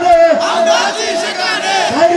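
A large crowd at an outdoor Islamic religious gathering chants the takbir slogan in unison, a loud, swelling roar of many voices rising and falling in a single rhythmic call.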